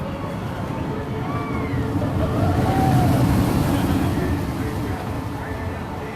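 Slinky Dog Dash roller coaster cars run around the track at a theme park, a rumbling rush that swells to a peak midway, then eases, amid crowd noise and occasional faint whistling tones.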